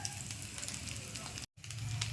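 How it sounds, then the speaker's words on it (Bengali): Small fish fry hot in a pan with a steady crackling sizzle over a low background hum, broken by a brief dropout in the middle. "এদিকে আমার কুচো মাছ ভাজা হচ্ছে, গরম।"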